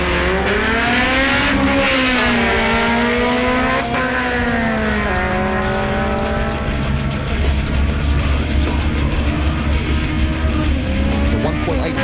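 Two Honda Civic Type R cars, a 1.8 VTEC against a 1.6, launch in a street-import drag race, engines screaming loud and near, revving up through rising gear pulls with sharp shift breaks and no voices over the roar.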